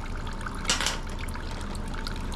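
Fuel trickles and drips steadily from the Honda GX390/GX270 clone engine of a DR stump grinder, with a brief louder splash partway through, close up and without talking.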